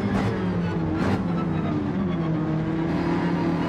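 Race car engine in the Gran Turismo video game, played in PSVR2, holds a steady loud drone with a turbocharged tone during the launch at the race start, with no talk over it.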